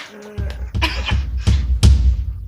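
Several harsh coughs in a row, loud and close, with a muffled voice and thumping underneath.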